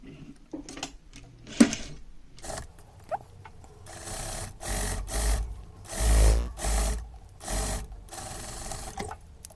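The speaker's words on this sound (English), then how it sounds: "we're just gonna continue that top stitch and sew a little" A sewing machine runs in short bursts and then longer stretches while top-stitching a dress sleeve, its close mechanical whir and rattle stopping and starting, with no talking.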